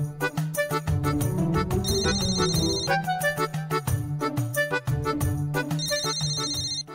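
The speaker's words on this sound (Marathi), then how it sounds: "कोणाचा फोन आहे बघा." A phone ringtone in a Marathi TV serial scene, a loud, continuous melodic tune with repeating beats and high chiming phrases, playing alone.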